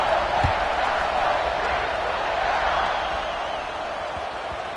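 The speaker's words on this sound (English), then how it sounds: "this crowd is buzzing after that last score" A football stadium crowd buzzing after a score, a dense continuous roar of many voices that holds steady and fades slightly toward the end.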